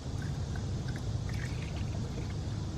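Coolant pours into the radiator of an E34 BMW 540i in a steady gurgling trickle, heard close and fairly quiet throughout with no talk.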